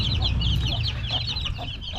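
Hen kept in a cage with her chicks, giving soft repeated clucks over a low background hum, with high chick peeps scattered through.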